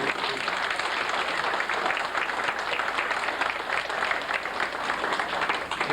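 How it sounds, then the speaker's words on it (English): At a 1996 school reunion, an audience gives a big round of applause for the kids and teachers: a dense, even wash of many hands clapping, steady and moderately loud for the full stretch, with faint voices mixed in. "How about a big round of applause for these kids?"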